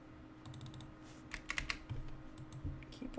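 Quiet, close keystrokes tap in short clustered bursts on a computer keyboard over a low steady hum, with no one speaking.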